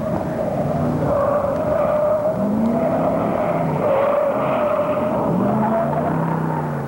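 An Opel Manta corners hard at speed through a pylon course on a test track, its tires squealing in long rising and falling wails over a steady engine drone, loud and close, with no talk.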